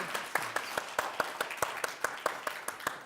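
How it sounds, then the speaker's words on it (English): Sparse, faint clapping from a small conference audience in Dubai, individual claps spaced out in a loose, uneven rhythm with little crowd noise behind them. "If everyone can give Baiju a round of applause."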